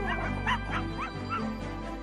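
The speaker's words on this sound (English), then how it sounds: "Come on," barks Rainbow Dog" A cartoon dog yips and barks in short, bright, high-pitched bursts, several in a quick run, voiced over a steady background hum in a children's animated story.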